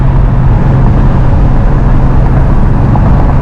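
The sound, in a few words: 1969 Hurst Olds engine driving at about 4,400 RPM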